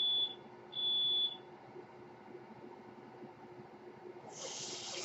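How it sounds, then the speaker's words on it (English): A smoke alarm with a failing low battery gives two short, high electronic chirps in the first seconds over a quiet room, followed by a brief hissy burst near the end. "sounds like we have a bad battery in a smoke alarm"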